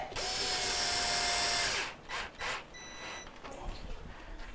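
A power drill driving screws into a Maytag dishwasher during a latch seal kit repair, a loud close whirring burst of about two seconds, then a few short trigger pulses, with no talk.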